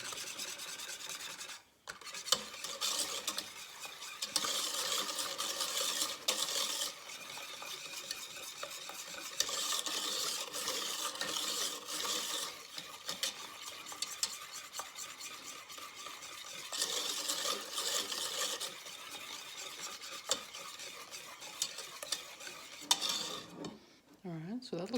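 Thick custard mixture of egg and granular sugar is stirred in a bowl, a continuous close scraping and rubbing with swelling strokes and a brief pause near the start.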